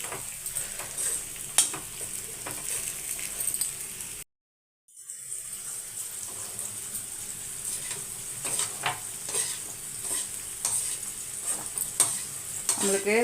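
Food being stirred and mixed in a hot pan for a lunch-box dish: a steady frying sizzle with rhythmic scraping strokes of a spoon, close, broken by one brief moment of silence.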